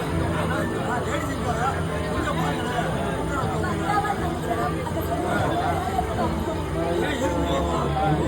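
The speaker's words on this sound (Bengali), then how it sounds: "দেখেন ট্রেনে কিরকম ভিড়" Dense babble of many passengers talking at once in a crowded train carriage, steady and close, with no single voice standing out.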